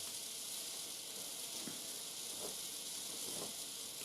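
A brand-new 2005 Rowenta Effective DX1200 steam iron releases a steady, even hiss of steam that stays constant for about four seconds, close up and moderately loud, with no voices.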